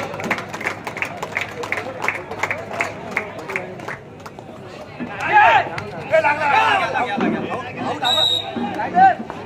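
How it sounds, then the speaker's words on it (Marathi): Crowd applause at a village kabaddi-style tournament match in Vayshet honouring Madhugiri Patil and the Vayshet team, scattered claps building into loud mixed clapping and chatter, with voices throughout. "मधुगिरी पाटील आणि वायशे संघासाठी एक जोरदार टाळ्या झाल्या पाहिजेत."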